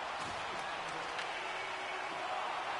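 A virtual arena crowd in the NHL 26 hockey video game gives a standing ovation late in the third period, a continuous wash of clapping and cheering under the play-by-play commentary.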